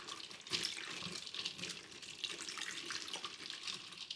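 A kitchen tap runs steadily while boiled ramen noodles are rinsed under cold water. The splashing hiss stays fairly quiet and continuous, with small spatters of water hitting the noodles and the sink, and no voices.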